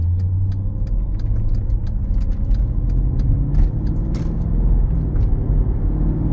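A 2011 Mercedes-Benz SL 550 engine rumbles steadily as the car drives along, with road noise and occasional light clicks and rattles inside the cabin.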